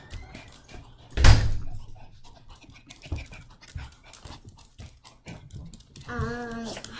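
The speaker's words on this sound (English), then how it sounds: "Close the door." A door closes indoors with one solid thud near the start, followed by a dog panting close by, small knocks and movement, and a brief whine near the end.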